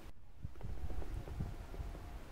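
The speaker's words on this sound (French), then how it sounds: "Il y a un peu de vent, hein." Wind blows across an empty paragliding site at Revin-la-Falière in the Ardennes on a mid-August day, a low, steady rushing and buffeting against the microphone, moderately loud and continuous with no voices.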